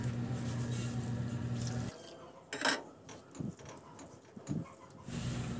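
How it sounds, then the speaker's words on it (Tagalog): Glutinous rice is rinsed under running tap water, a soft steady stream broken midway by sloshing, splashing rinse sounds, fairly quiet and close, without speech. "Hugasan ko muna yan at isaing."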